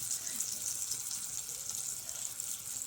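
Fish sizzles steadily in hot oil on a bhakri griddle, a close, continuous hiss and crackle with no voices over it.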